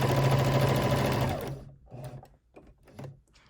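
A sewing machine stitching a T-shirt blanket runs loud and fast in a steady buzzing whir for about a second and a half, then stops, followed by a few quieter mechanical clicks and short bursts.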